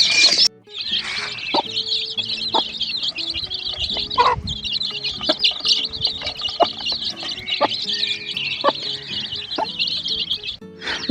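Chicks kept in mesh crates on a village farm, a constant chorus of high, rapid peeping chirps close by, with occasional clucks and knocks underneath.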